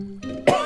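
A single short, sharp cough up close, following a brief moment of quiet background hum.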